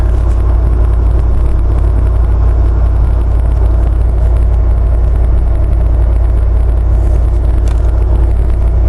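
LS3 V8 engine in a Jeep JK pulling hard on the road in top gear near 5,000 RPM, a steady, dense rumble with road and wind noise, continuous and fairly loud throughout with no talking.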